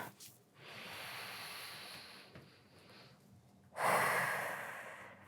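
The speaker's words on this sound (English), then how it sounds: "A couple deep breaths" Two deep, slow breaths during a core workout, a long airy inhale and exhale followed by a louder, forceful breath, close and quiet, with no talking.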